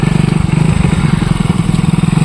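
A motorcycle engine thrums loudly and close by, a steady rapid pulsing putter that doesn't let up.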